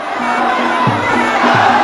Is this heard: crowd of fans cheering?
yes